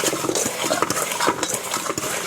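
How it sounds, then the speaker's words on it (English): Brussels sprouts being tossed by hand in a bowl with sriracha sweet chili sauce, salt and pepper give off a run of light, irregular wet clicks and clatters, close and alone. "I'm just going to kind of coat all your sprouts"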